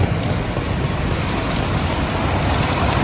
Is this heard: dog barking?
no